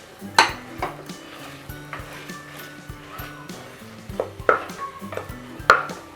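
Boiled potato mashed into veg kurma curry in a pan, with sharp metallic clinks and knocks of a spoon against the pan at irregular intervals over a low bubbling background, close up and without speech.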